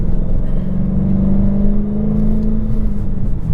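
A 707 hp Dodge Challenger Hellcat revs and accelerates, its engine heard from inside the car as a loud, sustained rising drone over a deep rumble, with no talk.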